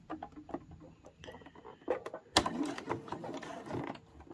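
A sewing machine stitching a fabric mug rug, quiet bursts of rapid mechanical ticking with short pauses and one sharp knock partway through, heard close without talk.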